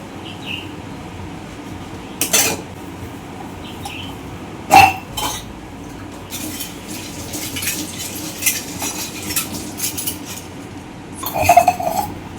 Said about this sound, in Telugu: ఇప్పుడు దాకా టిఫిన్కి యూజ్ చేసిన గిన్నెలన్నీ వాష్ చేస్తున్నాను